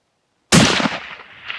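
A single loud rifle shot fired at a mule deer during a mountain hunt, close and sharp, followed by a long rolling echo that fades across the terrain.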